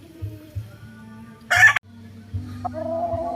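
Gamecocks of mixed breeds at a farm in San Isidro give a short, loud crow from one bird over a low hum and softer clucking, with no talk.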